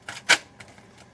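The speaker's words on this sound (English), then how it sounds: "Yes, I am shuffling again." Tarot cards being shuffled by hand, a few quick papery riffles and flicks, one louder burst in the middle, close and brief with no talking.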